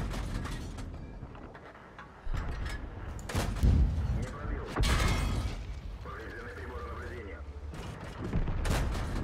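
Tank cannon shots in the World of Tanks battle at Kursk: several heavy booming blasts with rumbling low end, the loudest near the middle, mixed with engine and mechanical clatter while a voice talks.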